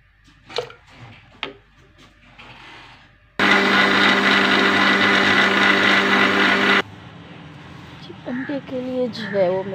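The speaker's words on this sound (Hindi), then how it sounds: "तो अब मैं इसको, इसका मक्खन निकालूँगी दही का" An electric churner whirring through homemade curd to separate butter in a village kitchen: a loud, steady motor drone for about three seconds, with someone talking before and after.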